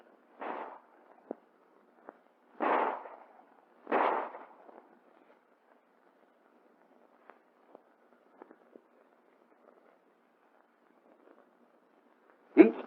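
A Colt 1911 handgun fires live tracer rounds in three sharp, separate reports with quiet gaps between them, then one more shot right at the end. The shots sound moderately distant.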